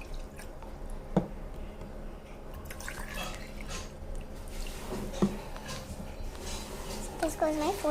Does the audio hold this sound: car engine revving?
no